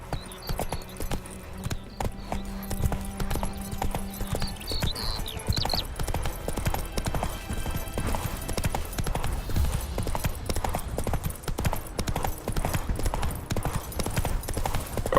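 Horse hooves clip-clop steadily in The Witcher 3, a brisk, even rhythm of close, loud hoofbeats running almost the whole time over a low ambient game background, with a faint steady hum in the first few seconds.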